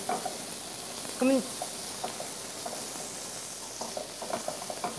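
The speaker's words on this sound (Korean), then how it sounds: "소고기를 양념해 놨던 소고기를 같이 넣어서 볶아주도록 할게요" Seasoned beef stir-frying in a pan for beef and vegetable porridge gives a steady, soft sizzle and hiss throughout, with faint scraping, and a voice briefly speaks over it.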